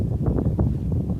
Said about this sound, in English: You'll have to excuse the wind.